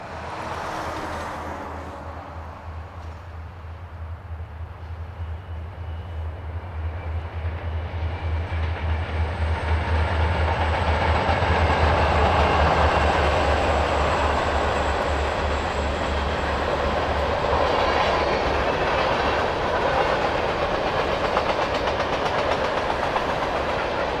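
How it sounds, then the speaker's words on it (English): A CSX freight train, Q393, rolls west behind two leased locomotives, a loud steady rumble of wheels and clattering cars swelling as it passes close by and holding on without a break. "we catch train Q393 as it hustles west behind two leased units"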